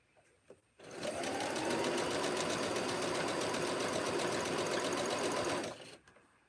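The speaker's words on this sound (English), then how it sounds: "It's like you guys get to see each block as they go across the machine." Sewing machine runs steadily for about five seconds, stitching borders onto rag quilt blocks with a fast, even mechanical whir, close and continuous, starting and stopping cleanly.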